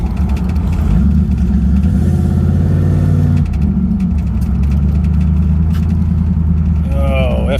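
A car engine runs near the listener at a raised idle of around 1,100 RPM, giving a steady low rumble that briefly swells midway, while a person speaks over it toward the end.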